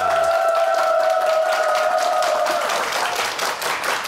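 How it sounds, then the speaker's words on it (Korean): Studio audience on a Korean morning TV show clapping to welcome a guest onto the set; a brief held musical tone opens, then a bright, even burst of applause continues to the end. "박수로 환영합니다"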